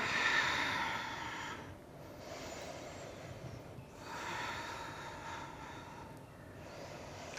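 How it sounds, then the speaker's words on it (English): A yoga practitioner breathes during Navasana (boat pose), with long audible breaths rising and falling in slow waves, close and fairly quiet, ending with a short sharp intake; no talking. "Taking a breath."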